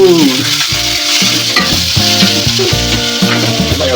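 Ingredients for avarekalu sambar fry loudly in a pan, a dense, steady sizzle with repeated rhythmic clanks and scrapes of a spoon stirring against the metal, close up and with no talking.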